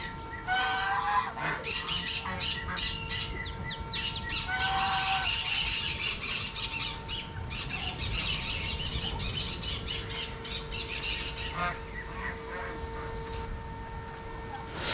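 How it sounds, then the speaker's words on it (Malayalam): Turkeys at a pet station in Mattool, Kannur, with other poultry nearby: repeated loud honking squawks and gobbling bursts come in clusters over a steady background hum, with brief faint voices. "ഇപ്പോൾ നിങ്ങൾ കണ്ടുകൊണ്ടിരിക്കുന്നത് ടർക്കി കോഴികളാണ്."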